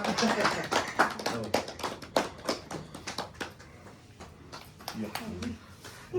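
A small group claps in quick bursts at an anniversary cake celebration, the sharp close claps tapering off as people talk over and around them.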